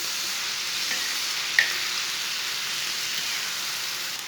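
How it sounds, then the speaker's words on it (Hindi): Chicken pieces frying on a tawa with salt and whole coriander seeds give a steady, even hiss at moderate volume, with one brief tap partway through and no talking. "अब 5 मिनट तक भून लेंगे।"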